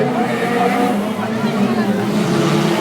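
A race car engine at the Circuit des Remparts historic street race, a steady, loud mechanical drone with a strong low tone, heard under continuous French commentary.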